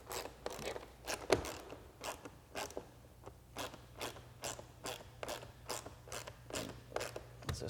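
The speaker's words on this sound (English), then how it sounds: "snugging up the nuts onto the bolts because you don't want to get one super tight" Nuts are snugged onto bolts with a hand ratchet while a BMW 1 Series speaker is installed, making a faint, quick series of clicking turns close by, repeated in short bursts.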